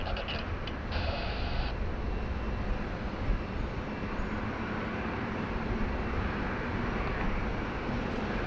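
A Fiji Airways Boeing 737 MAX 8 arriving at Sydney Airport, heard as a continuous broadband jet roar that stays level for several seconds, somewhat distant and steady.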